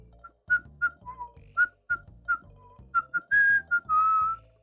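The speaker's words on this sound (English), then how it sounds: "Did my mic actually pick up whistling?" A person whistles a bright tune in short separated phrases, several quick notes then a couple of longer held tones near the end, fairly close and with no talking.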